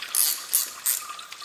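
Bolts on the transmission cover plate of a Mercedes W205 C-Class with a 7G-Tronic PLUS gearbox being undone with a ratchet: a close, bright mechanical clicking that comes in three short bursts with quieter ticking between them.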